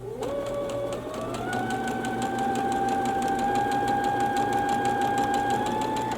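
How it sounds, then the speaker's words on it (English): Sewing machine stitching a diagonal seam across a quilted placemat, a steady rapid mechanical whirr with a rising motor tone that settles into an even pitch, close and continuous with no talking. "we're going to sew across that diagonal"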